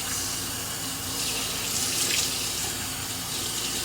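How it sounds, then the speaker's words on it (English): Steady, hissing flow of water from a sink tap, running continuously and close by while a face is rinsed after wet shaving with a double-edge safety razor; no one speaks. "I'm gonna rinse off."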